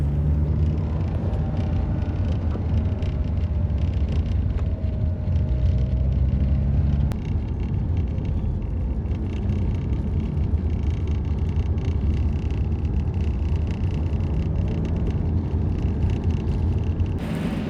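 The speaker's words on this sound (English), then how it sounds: "This car is just plain fun to drive, fast or slow." A Saturn Sky roadster sports car drives along, its engine and road noise forming a loud, continuous rumble heard from inside the cabin without any talking.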